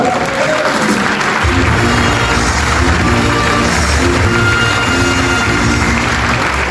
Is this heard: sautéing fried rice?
no